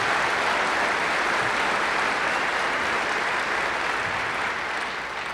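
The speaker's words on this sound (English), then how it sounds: "I would like you to give all of them a round of applause" Lecture-hall audience applauding after being asked to honour a group, a dense, steady wash of many hands clapping throughout that eases slightly at the very end.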